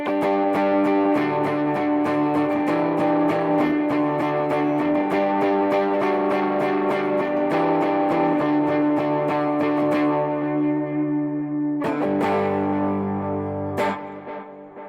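An electric guitar played through a Quad Cortex modeler rings out distorted, sustained chords with some ambient tail. It plays loud and steady, pauses briefly, then strikes a few more chords that fade out.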